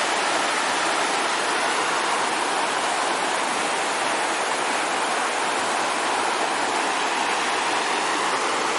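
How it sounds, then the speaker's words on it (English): Clear mountain water of a creek flows steadily beneath a bridge, a dense, even rushing wash close by that holds constant from start to finish with no voices. "Look at that clear mountain water, folks."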